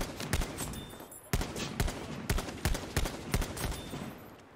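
Shots from the M1941 Johnson rifle in the video game Battlefield 5, a run of sharp, punchy reports spaced at a slow, steady semi-automatic pace over roughly nine shots, with game ambience between them.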